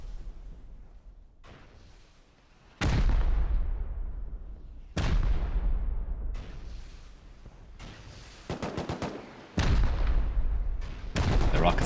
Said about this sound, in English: The rockets are still just being pounded in that side